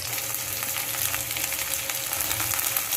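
Mustard seeds, green chilli, onion and curry leaves sauté in coconut oil with a dense, even crackling sizzle, close and unbroken from start to finish, with no one speaking.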